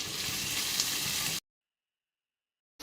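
Finely sliced onions fry in hot oil with a bay leaf, giving an even, close sizzle for over a second before cutting abruptly to silence.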